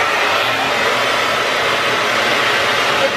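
A hair dryer blows continuously and loudly while hair is blow-dried forward over a round brush, a steady close-up whoosh with no speech.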